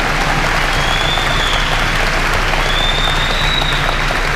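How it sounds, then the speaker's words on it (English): A graduation audience at a high school ceremony applauds donors, giving steady, dense clapping from a large crowd that holds evenly throughout, with no speech over it. "Let's give all of our donors a round of applause."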